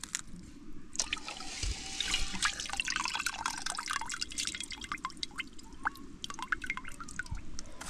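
Rice being washed in water, with soft close drips, trickles and sloshing as the grains are rinsed by hand, steady and fairly quiet.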